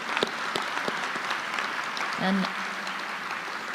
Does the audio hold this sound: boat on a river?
no